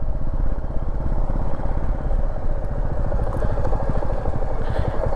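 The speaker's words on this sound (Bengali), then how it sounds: "ইঞ্জিন ব্রেক ইউজ করে নামছি।" A motorcycle descends a steep road toward Murguma Dam in Purulia on engine braking, its engine giving a loud, close, steady low throbbing putter throughout.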